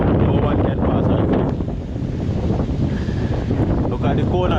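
Strong wind from Hurricane Melissa in Jamaica roars steadily across the microphone near the sea and coconut trees, a loud continuous buffeting rush with water noise underneath and a brief lull midway.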